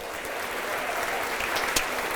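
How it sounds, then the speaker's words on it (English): An audience at an Oklahoma aerospace event gives a round of applause for the state House speaker, producing dense, continuous clapping at moderate loudness. "Another round of applause for the youngest Speaker of the House in the country, Kyle Hilbert."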